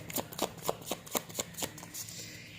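Tarot cards are shuffled by hand in a series of quick close papery riffles, about eight crisp flicks at a steady pace that trail off into quiet.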